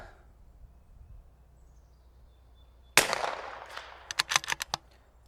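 After a quiet lull, a single sharp crack rings out from a .22LR precision rimfire bolt-action rifle. A quick series of crisp metallic clicks follows.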